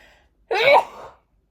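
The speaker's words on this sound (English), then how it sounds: "Every single time I sit down to film lately, I can't stop sneezing." A single close, forceful sneeze bursts out and quickly tails off, heard alone in a quiet indoor room.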